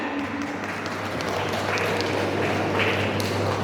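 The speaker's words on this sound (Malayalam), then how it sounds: "let's give A big round of applause for both of their parents and family" Applause for the couple's parents and family at a stage event, a steady, even wash of clapping from a crowd that holds at one level throughout with no break.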